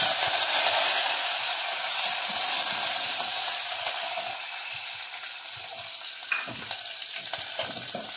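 Curry leaves hit hot oil for gongura dal, giving a loud, steady, close sizzle and frying hiss throughout, with a few small pops and spoon stirs along the way.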